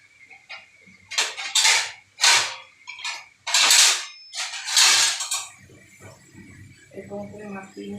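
Plates and cutlery clink and scrape in several sharp bursts as flour-coated lotte (Bombay duck) fish are laid onto plates one by one, with quieter kitchen rustling at the end.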